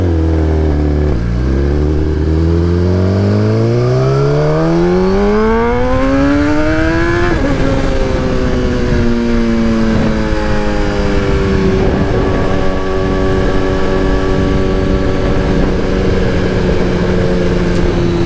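A Suzuki GSX-R1000R Anniversary Edition motorcycle roars in 5th gear, its engine note climbing steadily in pitch, then dipping and settling into a loud, sustained drone. No one speaks.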